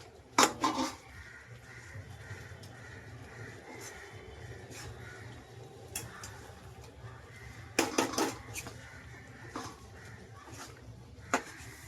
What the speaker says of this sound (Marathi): ह्याच्यात तीळ पण टाकलंय त्याला कालवून घेऊया आपण